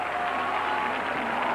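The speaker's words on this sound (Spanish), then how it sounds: "el aplauso del público para autor e intérpretes" Steady audience applause for a song's writer and its performers at a Mexican song event, dense continuous clapping from a large crowd, loud and even throughout.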